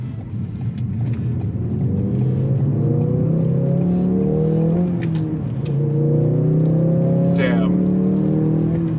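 A Ford Focus RS in sport mode accelerates hard around a corner, its engine note rising and droning loudly from inside the cabin with a brief tire squeal, while someone talks over it.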